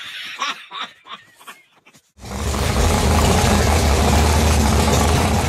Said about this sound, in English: Every engine lover knows that sweet sound of an engine that is ready to race.